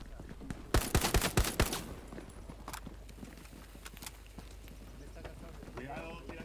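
Rapid burst of gunfire in the World War II shooter Hell Let Loose, a quick string of loud close shots followed by scattered fainter distant shots and clatter.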